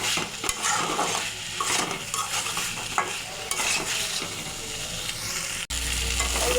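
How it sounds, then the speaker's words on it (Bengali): Eggplant and potato being stirred into a frying masala with a rohu fish head, a spatula scraping steadily through the pan over a continuous sizzle, close and moderately loud. "বেগুনগুলো দিয়ে দেবো ভালো করে মিশিয়ে নেব মশলার সাথে"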